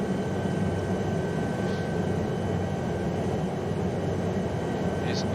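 An Aérospatiale SA315B Lama helicopter flies around Mont Blanc, heard as a loud, unbroken roar of rotor and engine that stays level throughout, close and dense as from inside the cabin.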